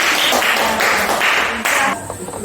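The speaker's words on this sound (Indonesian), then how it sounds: "mari kita tepuk tangan" An audience claps together after a presentation in a school classroom, rhythmic clapping that runs steadily and then fades, mixed with a few voices.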